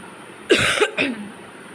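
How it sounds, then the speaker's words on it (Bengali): A person coughs twice in close succession, two sharp, near bursts with a short gap between them, heard alone against quiet background. "কাশি একবার একবার হচ্ছে"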